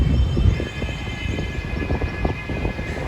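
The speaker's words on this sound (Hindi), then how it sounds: "अब मिल्लत एक्सप्रेस आ चुकी है GMU 30R के साथ" Millat Express hauled by a GMU 30R diesel locomotive passing through a Karachi railway station, a steady loud rumble of wheels and engine with rhythmic clatter throughout and no talk.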